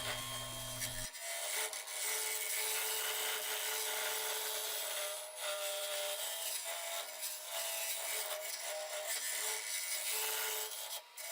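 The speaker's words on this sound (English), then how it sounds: "Both the inside and outside of the bowl was then turned on the lathe using a round carbide cutter" Round carbide cutter turning a segmented maple bowl on a wood lathe, a continuous loud scraping, rasping hiss with small rhythmic fluctuations, close and steady throughout.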